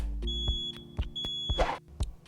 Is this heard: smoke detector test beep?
yes